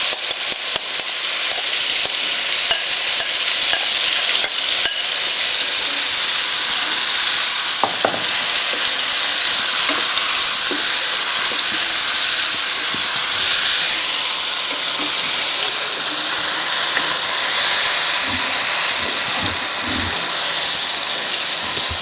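Chicken pieces for chicken karahi sizzle and fry steadily in a hot pan, a dense continuous hiss with occasional stirring clatter, close and loud throughout with no talking.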